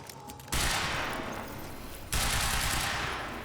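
Sustained automatic gunfire from the video game Quantum Break, two loud, dense bursts with a brief break between them, close and continuous with no talk over it.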